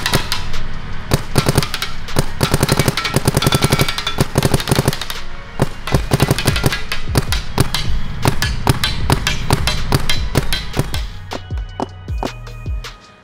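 Paintball markers, an Etha 3 and a Shocker Amp, firing in rapid succession: dense volleys of sharp pops, loud and close, in irregular fast bursts for most of the stretch, tapering off at the end with no talk.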